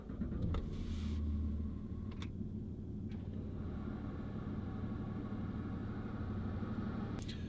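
A 2008 Jaguar XF 2.7 TD diesel saloon starts with a press of the button, the dashboard vents whirring open, before the engine settles into a quiet, steady low idle heard from inside the cabin.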